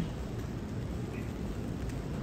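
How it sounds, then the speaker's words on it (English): Rain falls on a street in Hongdae, Seoul, making a steady, soft wash of patter that stays even throughout with no voices. "빗소리 너무 좋다."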